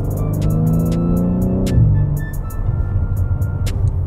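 Engine and exhaust of a boss's car hum low and close while it drives, the note rising then dropping as the revs change, with clicks over the drone.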